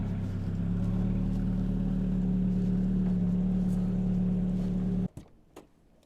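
A vehicle drives up with a loud, steady engine drone close by, then cuts off abruptly, leaving a few faint clunks in near quiet.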